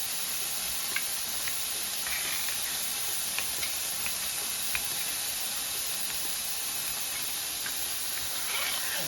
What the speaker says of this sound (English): I get the bacon all fried up and get some onions in there